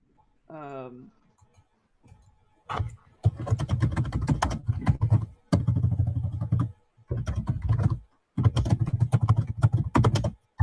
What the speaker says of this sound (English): Can you mute yourself while you're pounding on the keyboard?